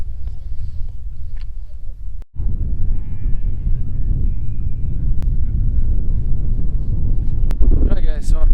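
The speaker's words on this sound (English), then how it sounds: "because the wind is blowing so hard" Strong wind buffets the microphone beside a remote lake, a steady low roar across the whole stretch with a brief dropout near the middle and faint bleat-like cries drifting in.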